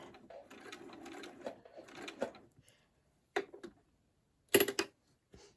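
A sewing machine slowly stitching a fold-over appliqué: a few short whirring runs of needle chatter separated by pauses, close and fairly quiet, with a voice speaking briefly at the start.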